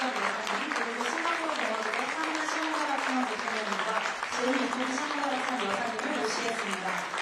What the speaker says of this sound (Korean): 모두 큰 박수로 맞아주시기 바랍니다.